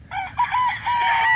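A dark-legged chicken calls close by in a short, bright squawking burst lasting about a second.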